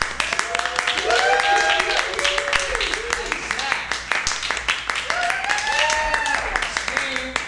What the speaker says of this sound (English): please give a big round of applause for Bill